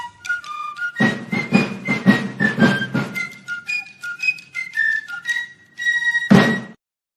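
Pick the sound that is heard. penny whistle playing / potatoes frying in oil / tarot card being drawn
penny whistle playing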